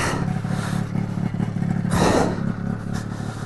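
A snowmobile engine drones steadily while riding through snow, close and continuous with a brief surge near the middle, no voices present.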